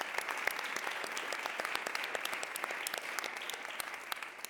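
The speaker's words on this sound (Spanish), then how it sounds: "Un aplauso para los ponentes." Sustained applause from a conference audience for the panel speakers, a dense even patter of clapping heard at moderate distance with no voices over it.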